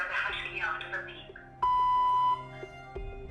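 A steady electronic beep tone sounds for under a second in an automated phone payment message, following a recorded voice and trailed by a shorter tone.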